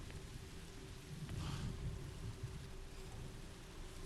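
Steady rain hisses in a video game scene, a soft, even wash of falling drops with a low rumbling undertone, faint and continuous with no voices.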